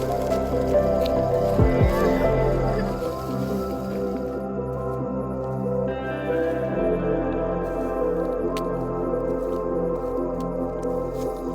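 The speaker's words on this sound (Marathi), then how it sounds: "मडक्यावर पाणी मारून पहावं तर असा आवाज झाल्यास पोपटी शिजली असं समजावं" Water splashed on a hot clay pot of popati produces a continuous hissing, bubbling sizzle with wet squishy crackles, close by and steady throughout.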